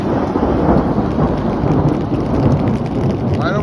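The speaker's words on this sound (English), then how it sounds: "There's the thunderclap." A thunderclap booms loud and close during a severe thunderstorm in Midtown, rumbling over steady heavy rain hitting the surfaces all around.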